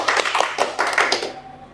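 A crowd claps at a religious lecture, a short dense round of applause that holds steady and then thins out near the end.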